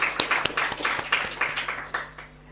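Audience applause at an African conference on digital sequence information, following a speech: steady, dense clapping from a crowd, moderately loud and continuous for a couple of seconds.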